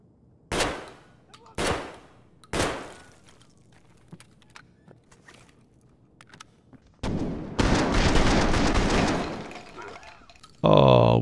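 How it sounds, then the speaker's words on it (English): Gunfire in the video game Escape From Tarkov: three sharp, separate shots ring out in the first few seconds, then a dense, sustained burst of firing, with a brief loud crack at the very end. "I can hear some gunshots over here somewhere."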